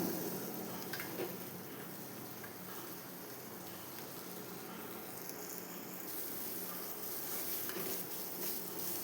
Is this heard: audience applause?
no